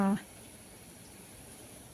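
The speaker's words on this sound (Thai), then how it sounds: "น้ำเดือด แล้วนะคะ" A brief voice at the very start, then a soft, steady bubbling and hiss of a pot of water simmering at a low, even level before tom yum ingredients go in.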